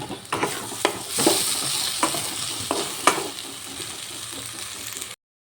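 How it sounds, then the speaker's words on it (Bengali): A spoon stirs bean and bori curry in a pan after mustard oil goes in, scraping in uneven strokes over a steady close sizzle, with no talking. "এবার উপর থেকে দিয়ে দিলাম একটু সর্ষের তেল তেলটা দিয়ে একটু ভালোভাবে মিশিয়ে নেব"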